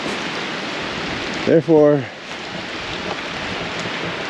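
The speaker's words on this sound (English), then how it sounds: "But it's pouring rain there now." Heavy rain pours steadily outdoors in the woods, a constant broad hiss throughout, with someone briefly speaking over it.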